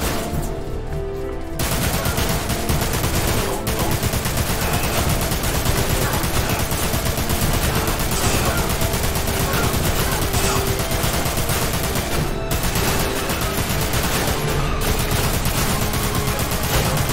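Dense, continuous gunfire from the Dirge of Cerberus video game, with pistol shots blending into a steady, loud barrage over a busy battle backdrop for most of the stretch, with brief dips near the start.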